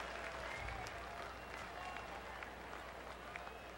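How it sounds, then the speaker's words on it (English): A college football stadium crowd applauds at the 2002 Seattle Bowl, Wake Forest against Oregon, a faint, distant, steady roar of clapping beneath a commentator's talk. "And you hear the applause"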